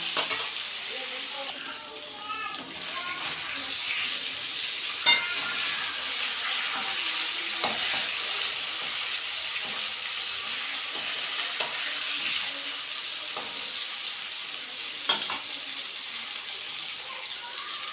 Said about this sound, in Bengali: মাছটা হালকা বেজেছি